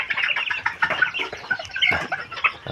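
A Thai native breed hen clucks close by in a dense, continuous run of short, busy calls with no speech over them.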